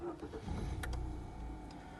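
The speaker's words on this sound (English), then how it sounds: "If I start the car up, there's a push button start just here to the left of the steering column." A Mazda2 1.5 SKYACTIV-G Sport Nav with 68,781 miles starting by push button: a brief crank, then the engine catches and settles into a steady, close idle, with no one talking.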